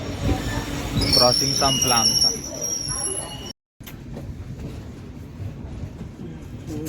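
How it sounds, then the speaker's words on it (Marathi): A train runs near a level crossing in rural Konkan with a steady rumble and a high metallic wheel squeal early on. Someone talks over it, then the sound drops out briefly and continues more quietly. "ट्रेन इली आता आम्ही चललो"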